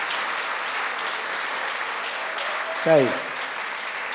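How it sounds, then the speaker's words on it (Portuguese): Sustained audience applause fills a tribute performance, a dense steady wash of clapping with a brief spoken phrase breaking through near the end. "eu vou pedir também que vocês aplaudam"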